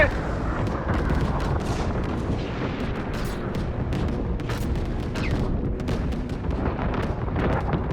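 Anti-aircraft flak bursts and booming explosions from the Call of Duty: WWII Ardennes offensive rumble continuously, dense and loud, with heavy low-end thuds throughout and no clear talk.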